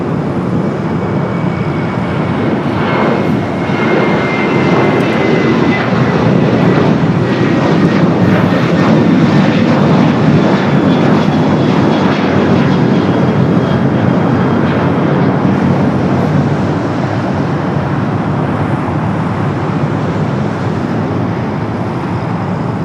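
A charter jet at Los Angeles International Airport carrying executives and business travellers to the islands roars loudly and steadily, its engines holding a broad, continuous drone.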